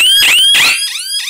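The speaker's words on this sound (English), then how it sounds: "At which point the siren, which is very loud," A loud, piercing motion sensor alarm siren from a DIY alarm kit wailing in rising and falling sweeps, close by, with no talking.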